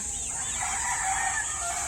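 Rooster crows once at moderate distance, a drawn-out rising and falling call over a steady background hiss.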